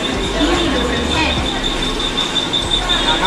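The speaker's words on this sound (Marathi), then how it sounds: "प्लॅटफॉर्म क्रमांक 2 पर आई हुई लोकल 11:02 मुंबई छत्रपती शिवाजी महाराज टर्मिनस जाने वाली ही लोकल है।" A Mumbai local train bound for Chhatrapati Shivaji Maharaj Terminus pulls in at platform 2 of a station, wheels squealing steadily with a high metallic whine over a dense rumble of rail noise and station bustle.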